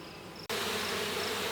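Honey bees swarm around hive frames being worked by a beekeeper, a close, continuous droning buzz with a brief dropout early on before the hum returns fuller and steady.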